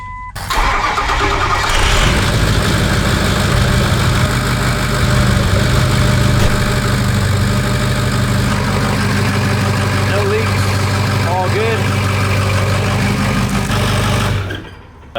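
A Ford 6.0L Powerstroke diesel truck, recently nursed on a battery charger, cranks briefly, fires up and settles into a loud, steady, rumbling idle that runs on for over ten seconds, with someone talking over it.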